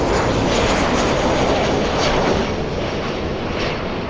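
An airliner in special Freedom 1 livery arrives at LAX, a steady broadband jet roar holding loud for several seconds and easing slightly toward the end.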